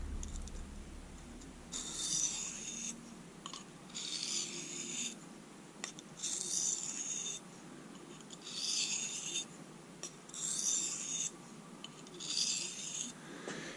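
Quiet, gritty rasping of a Work Sharp waterstone rubbed back and forth on a Harbor Freight diamond hone block, about six slow, even strokes with pauses between.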